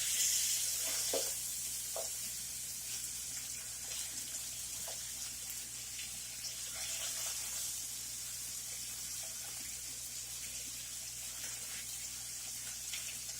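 Bacon-wrapped hamburger logs stuffed with cheese sizzle loudly in a pan, a constant fizzing crackle broken by a few soft knocks and scrapes as they are flipped, with no talking.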